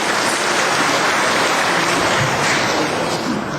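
A crowd at a motivational talk applauds, a dense, steady wash of clapping that fills the whole stretch at even loudness, with no voices over it.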